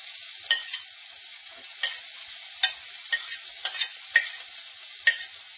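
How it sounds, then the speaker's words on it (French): Onions and shallots frying in hot oil in a pan, giving faint, scattered crackles and stirring clicks that come in a loose, irregular rhythm over quiet background. "l'huile commence à chauffer dans la poêle. Donc je vais mettre mes oignons et mes échalotes"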